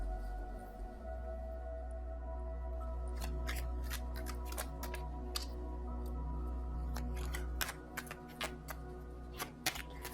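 Tarot cards shuffled by hand over a steady low hum, with repeated crisp riffling bursts and flicks that grow busier partway through; no one speaks.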